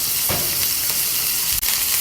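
Onion frying in olive oil in a pan for an eggplant and potato musaqqa'a gives a loud, continuous close sizzle, broken by a couple of brief stirring scrapes, with no speech.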